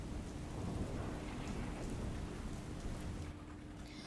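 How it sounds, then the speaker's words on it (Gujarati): Steady rain falls in Ahmedabad during a downpour that floods city streets, a dense, continuous hiss of drops on surfaces with no voices. "વરસાદ ચાલુ થઈ ચૂક્યો છે"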